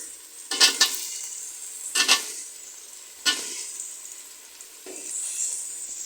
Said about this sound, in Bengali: মরিচের গুঁড়া হাঁসের মাংস তাই একটু জাল দিলাম